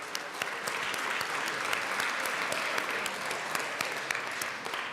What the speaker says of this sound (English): East High School, please stand and be applauded.